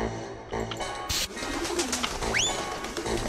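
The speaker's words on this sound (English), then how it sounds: "There's another pigeon over there." A pigeon in the game Jazzpunk coos softly amid a busy ambient backdrop, with a bright rising-falling bird call sweeping up near the end; no voices are heard.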